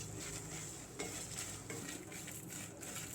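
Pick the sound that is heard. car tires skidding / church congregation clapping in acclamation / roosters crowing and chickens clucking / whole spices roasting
whole spices roasting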